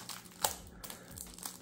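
Plastic wrapping on a Japanese concert DVD package crinkles as it is worked open, with quiet rustling and a few sharp crackles, close and faint.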